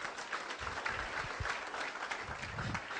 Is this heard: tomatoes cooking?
no